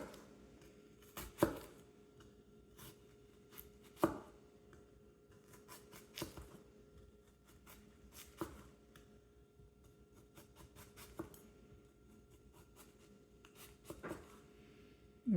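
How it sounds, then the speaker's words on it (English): A knife cuts grooves into the side of a peeled onion half, giving a few crisp clicks of the blade meeting the cutting board at intervals, with faint scraping between them, close and moderately quiet with no talking. "we're going to cut grooves on the side of the onions"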